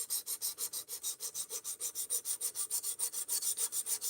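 A knife blade is pushed back and forth across a sharpening stone in a steady, even rhythm of about five rasping strokes per second, close and clear with no talking.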